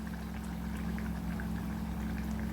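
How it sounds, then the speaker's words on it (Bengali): Mustard oil drizzled from above over a finished prawn malai curry, a soft, steady liquid pour with a gentle simmering texture and a low constant hum beneath, with no talking throughout. "এবার আমি আরেকটু সর্ষের তেল উপর থেকে ছড়িয়ে দেব।"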